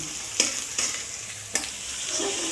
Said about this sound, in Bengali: পেঁয়াজটা ভাজা শুরু করে দিয়েছি।